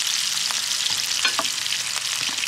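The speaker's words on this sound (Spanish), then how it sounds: "Solo dejen a calentar bien el aceite para que estén buenos" Onion fries in hot oil in a pan, a steady close crackling sizzle with dense spattering pops and occasional stirring scrapes, no voices present.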